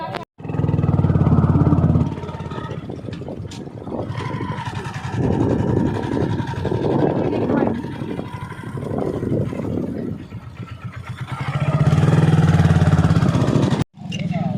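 A motorcycle engine runs close by, idling and revving in uneven surges, with a brief cutoff near the end.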